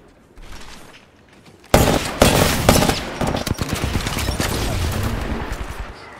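Gunfire from a distant fight in Apex Legends, first quiet, then a sudden close burst of rapid automatic shots and clattering fire that keeps going loud and dense to the end.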